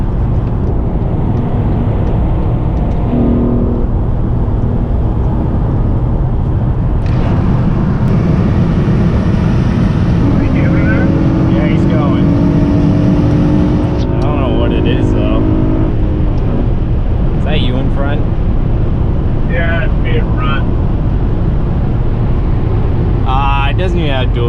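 A BMW, likely a 328, accelerates hard on a road, a steady loud engine roar heard from inside another moving car, with voices talking over it throughout.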